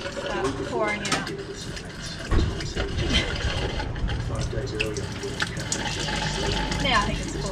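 Water gushes and splashes out of an overfull water tank at a campsite, a steady close pouring with gurgling and splattering that runs throughout, with voices faintly in the background.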